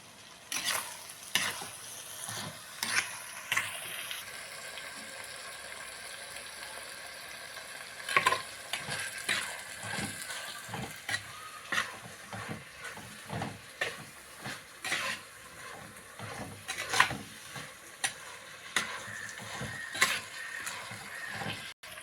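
Chopped tomatoes and onions frying in a pan for home-style biryani, a soft continuous sizzle under repeated scraping and clinking strokes of a stirring spoon against the pan, quiet and close with no talking.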